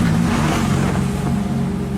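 A Maserati MC12 supercar pulls away in snow, its engine a loud, steady mid-pitched roar heard up close for the whole moment.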